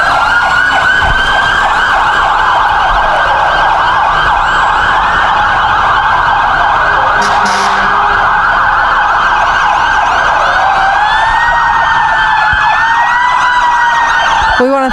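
Loud overlapping police car sirens wail continuously, one rising and falling slowly while another warbles, close by with a constant roar underneath, at a Christmas parade.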